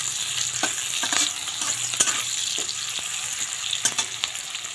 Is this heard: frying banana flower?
yes